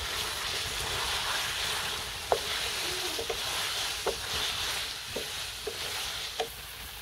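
Spices go into a sizzling potato karahi: a steady soft frying hiss runs throughout, broken by a few brief scraping stirs and light clinks of a spoon against the pan, with no talking.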